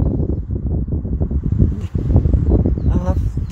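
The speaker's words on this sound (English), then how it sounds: "Although there's a lot of wind, there's not a lot of clouds scudding across the sky." Strong wind blows outdoors in a park, buffeting the microphone with a low rumbling roar that sits under continuous close talking.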